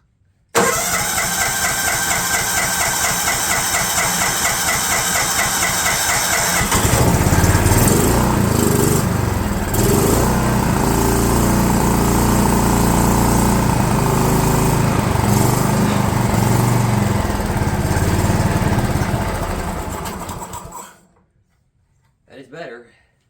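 A DR mower engine, left sitting for years, cranks and catches, then runs loud and rough with uneven sputtering for about twenty seconds before cutting off, followed by a brief faint noise.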